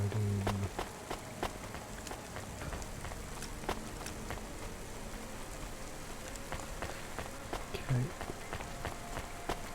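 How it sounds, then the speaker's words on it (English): Steady rain falls across a neon city in the video game Cloudpunk, a continuous hiss of drops on surfaces with scattered sharp ticks and taps, and a voice says a brief word over it. "it's raining and cloudy"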